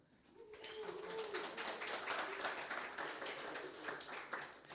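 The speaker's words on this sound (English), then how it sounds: "So just please give some applause for them." An audience at a company meetup talk breaks into applause: soft, dense clapping that swells in after a brief quiet start and holds steady for several seconds.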